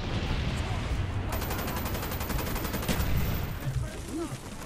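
Rapid bursts of video game gunfire from a weapon fired from the hip in Call of Duty: Black Ops, a dense rattling stream of shots in the middle of the clip over a constant roar of game noise and voices.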